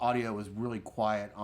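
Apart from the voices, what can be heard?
No distinct noise like a dog, phone or traffic.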